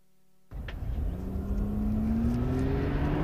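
A car fitted with Monroe shock absorbers drives on a test track, its engine kicking in abruptly after a brief quiet and then holding a rising, steady drone as it speeds up nearby.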